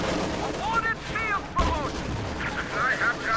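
Machine-gun suppressing fire from a Kübelwagen in a video game battle: rapid bursts of gunfire mixed with booming impacts and other battle noise, fairly loud and continuous across the moment.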